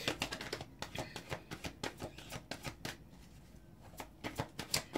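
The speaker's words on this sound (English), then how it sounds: "let's just pull out three more cards" Tarot cards are shuffled and drawn in a steady series of crisp papery slaps and riffles, close and moderately loud, with a brief pause midway before the shuffling resumes.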